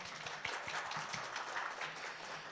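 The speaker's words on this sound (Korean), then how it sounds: "다시 한번 큰 박수 부탁드릴게요" Audience applause at an open-source software conference, a steady wash of many hands clapping after a speaker finishes, fairly faint and distant with no talk over it.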